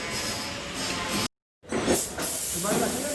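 A third coat of paint goes onto a Doblo car body: a steady hissing spray, broken by a short pause, then resuming in sweeping bursts, with a voice talking faintly nearby.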